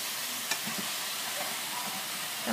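Vegetables for a stir fry hiss and sizzle in a hot pan while being stirred, a close continuous frying noise broken by a couple of light scraping knocks.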